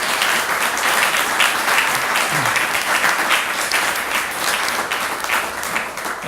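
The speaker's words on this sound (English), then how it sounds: "let's give all of our honorees one final round of applause" A luncheon audience applauds its honorees in one sustained, dense round of clapping that stays loud and even from start to finish, with no voices standing out.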